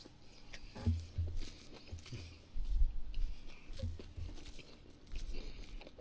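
Close, soft crunching and chewing of grilled pork belly and duck with radish from a mixed wood-fired grill, eaten in one mouthful, with a few louder bites standing out.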